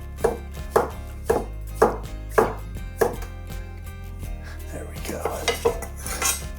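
Patty pan squash, a tender-skinned summer squash, being chopped with a knife on a cutting board: a run of regular, close knife strikes, then a quicker flurry of lighter cuts with some clatter of kitchen utensils.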